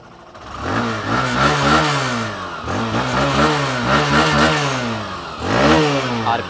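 A Hero Glamour 125cc motorcycle engine revs repeatedly, each throttle blip rising and falling in pitch in a steady loud sequence, with no talk over it.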